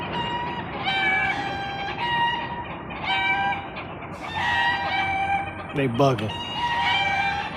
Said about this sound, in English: There's chickens and roosters in the tree.